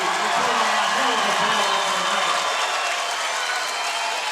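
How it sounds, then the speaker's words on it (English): Crowd at a fight event applauding and cheering after the bout, a loud dense wash of clapping and noise that holds steady throughout. "How about a big round of applause for these fine"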